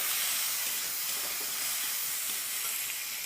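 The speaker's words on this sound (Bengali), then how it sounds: "আর পেঁয়াজগুলো ভালো করে ভেজে নেব" Onions frying in oil with cumin seeds, giving a dense, steady hiss and sizzle that holds evenly and close, with no talk over it.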